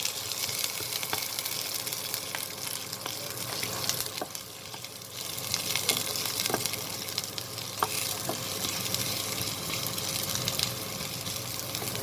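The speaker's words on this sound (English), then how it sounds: "Sliced onions. I'm using one big piece of onion. And I'm going to saute it nicely." Sliced onion sautéing in a pan for a bottle gourd chicken curry, a steady bright sizzle with occasional stirring clicks and scrapes, close and even throughout.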